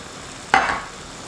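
Chicken curry with lime juice being stirred in a pan, a single brief scrape that rises suddenly and then trails off, close and fairly soft.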